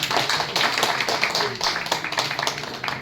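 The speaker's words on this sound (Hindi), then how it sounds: "एक बार राजमणि सर के लिए जबरदस्त ताली बजाएं" Audience clapping at a business opportunity training meeting, a dense continuous patter of many hands, fairly loud and close, filling the room without pause.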